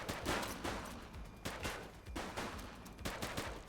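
Rapid bursts of gunfire during a police shootout in the video game The Precinct, loud overlapping shots in quick irregular volleys with rattling automatic fire, close and dense for the whole stretch.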